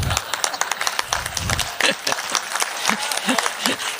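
An audience applauds at a Hindi comedy poetry gathering, a burst of brisk clapping from a crowd that carries on while voices talk and call out over it.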